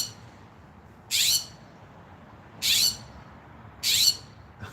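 Crows call outdoors in three loud, harsh caws, spaced evenly about a second and a half apart over a quiet background, with nobody speaking.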